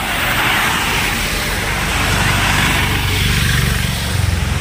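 Cars and other vehicles swish past on a rain-soaked road, a steady broadband hiss of tyres throwing up spray with low engine rumble beneath, continuous and fairly close throughout.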